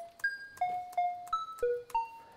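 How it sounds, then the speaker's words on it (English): A SuperCollider synth sums four pulse waves into mono under an envelope, sounding as six short, evenly spaced tones at different pitches, each with a sharp attack and a quick decay, in a clean, quiet setting. "Here we're summing the four pulse waves down to monophonic."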